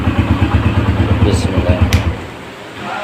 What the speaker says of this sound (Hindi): बिल्कुल इंजन सुने हमारा, साउंड भी माशाल्लाह बहुत प्यारा है